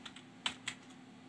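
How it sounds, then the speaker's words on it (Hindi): Keys on a computer keyboard are pressed at a BIOS CMOS setup screen, two or three crisp clicks in quick succession in a quiet room. "अपने कीबोर्ड से डिलीट का बटन दबाएं"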